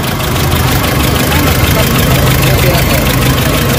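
A Nissan Navara engine with fuel knocking and low power idles roughly and unevenly close by, with a rattling, knocking quality, and a voice speaks faintly underneath.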